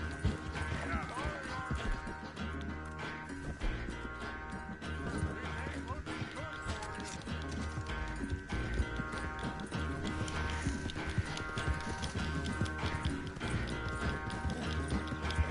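Horse hooves clip-clopping and a whinny in the Red Dead Redemption 2 video game, a steady rhythmic gallop running throughout over a layer of game sound.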